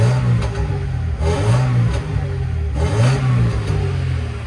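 A Mercedes-Benz W202 C180 Esprit, whose exhaust is suspect, revs hard several times up close, its engine note climbing and dropping in repeated loud surges with no talking over it.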